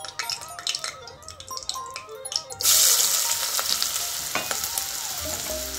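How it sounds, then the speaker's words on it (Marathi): Chopped onion dropped into hot oil in a heated kadhai, erupting into a loud, steady sizzle partway through that continues with bubbling and occasional stirring. "आता कापून घेतलेला कांदा घालू।"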